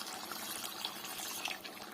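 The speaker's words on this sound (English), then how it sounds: "So we have to add a little more water" Water pours steadily into a cooking pot for a chicken korma, a continuous soft splashing and gushing rush with no pauses, fairly quiet and heard alone.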